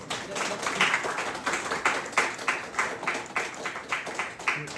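A small audience at a policy forum in a National Assembly meeting room claps in a steady, moderate burst of applause that is fairly close and even, with a faint voice underneath.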